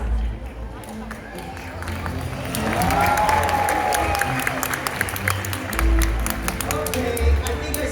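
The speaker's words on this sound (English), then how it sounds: "give him a big round of applause" Crowd at a SeaWorld Orlando orca show applauding and cheering as the killer whale jumps, clapping swelling midway and continuing under an amplified announcer's voice and splashing.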